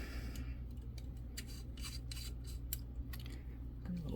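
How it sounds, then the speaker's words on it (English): Castle nut tightened on an AR15 buffer tube during a lower receiver build, close scraping and rasping metal contact with light ticks and clicks, no talking. "A little tension on the castle nut there."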